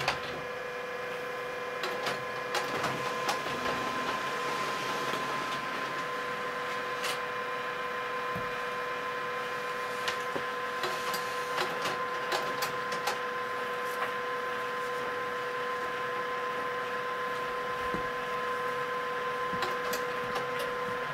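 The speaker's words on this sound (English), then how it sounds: "Now that you can hear, the printer is doing its thing," An HP printer prints a test page nearby: a steady mechanical whir and hum with irregular ticks and clicks from the paper feed, continuing evenly throughout.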